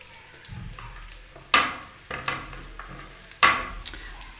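Roughly chopped onions fry in a pan for cabbage sabzi, a low sizzle broken by three sharp scraping stirs of a spoon against the pan, each a loud close burst that fades quickly.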